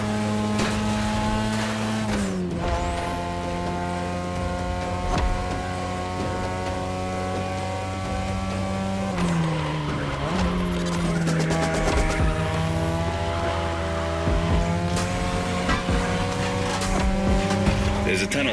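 A 2002 third-generation Mazda RX-7 with a rotary engine races in a video game, its high revving engine whine climbing and dropping through gear shifts, loud and continuous with tire noise beneath.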